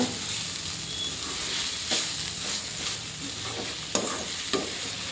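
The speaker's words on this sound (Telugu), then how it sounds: "బీట్రూట్ కలుపుకుంటూనే కలుపుకుంటూనే కలుపుకుంటూనే ఉండాల" A spoon scrapes continuously through sweet beetroot halwa cooking in a pan, the steady stirring laid over a soft frying sizzle, with a few sharper taps against the metal.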